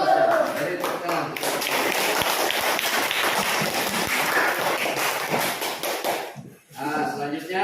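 A classroom of students claps for a group presentation. The clapping is loud, close and steady, lasts about six seconds, then breaks off briefly before a little more noise.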